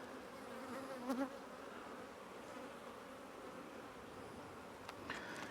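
A honeybee swarm buzzes on the comb in a hive, a faint, steady close-up drone of many wings with a couple of brief louder buzzes from single bees passing near.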